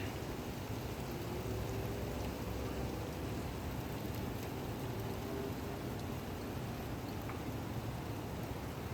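Steady rain falls on a cool, rainy day outdoors, a constant broadband hiss that stays even and fairly loud throughout with no voices.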